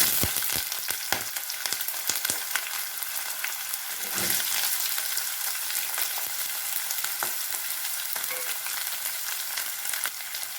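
Oil sizzles and crackles steadily as chopped onion fries with mustard seeds, cinnamon, bay leaf and cloves for tomato kurma, with occasional stirring scrapes, close and continuous with no talking.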